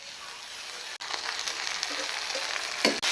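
Onion and garlic paste sizzles steadily in hot oil while cooking a duck curry, a dense continuous hiss close by with a couple of brief dropouts and a small scrape near the end.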